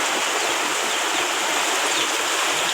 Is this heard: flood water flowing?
yes